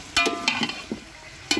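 Meat fries in a pan as it gets stirred, giving a few close scraping strokes with bursts of sizzle and crackle over a low steady hiss, and no talking.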